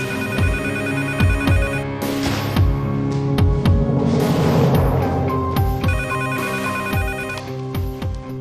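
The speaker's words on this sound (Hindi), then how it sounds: "जल्दी उठाओ फोन" A telephone ringtone sounds loudly and repeats steadily for several seconds inside a home, with a soft musical background beneath it.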